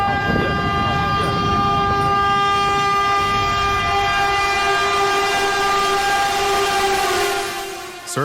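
A train rumbles past close by at a railway crossing, its horn blaring long and steady over clattering wheels before fading slightly at the end.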